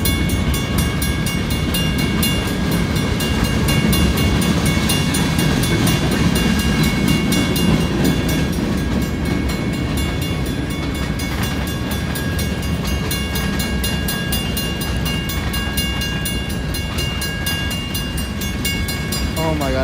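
Steady heavy rumble of a train rolling past in Franklin Park, continuous and loud throughout with faint metallic clatter and no pauses.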